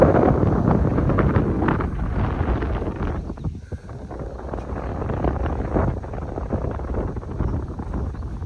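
Strong, gusting wind roars across a lake in a nature reserve, buffeting loudly and continuously with a brief lull midway, then rising again; no talking is heard.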